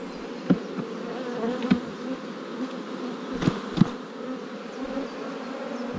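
Honey bees hum steadily around a small hive colony trying to swarm, a close, continuous drone with a few louder buzzes as single bees pass near.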